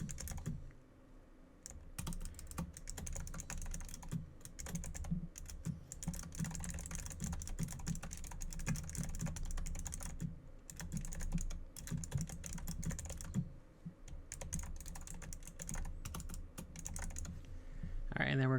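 Typing on a computer keyboard goes on steadily, a quiet, close patter of rapid key clicks with brief pauses, continuing throughout at low volume.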